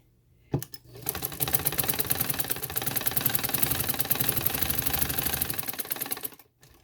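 A sewing machine stitches a neck design on a garment, running at a steady, rapid, rattling pace for several seconds close by before stopping.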